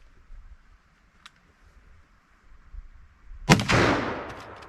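Single loud 45-70 rifle shot outdoors, a sharp crack followed by a booming, decaying echo, after a few seconds of quiet background with faint clicks and handling noise.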